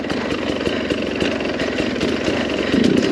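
A Sherco 300SE dirt bike with Smartcarb idles close by, a loud steady two-stroke putter with a slight roughness and a brief rise near the end.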